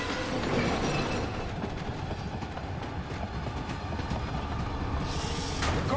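A minecart in the Resident Evil 4 Remake rumbles steadily along rails, with a continuous rolling clatter and rhythmic clicking throughout. The cart sounds close and loud, and no speech is heard.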